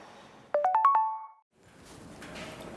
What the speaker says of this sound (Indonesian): Telepon siapa yang bunyi itu?